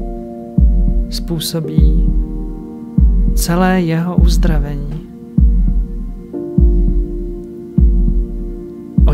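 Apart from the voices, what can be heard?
heartbeat sound effect in meditation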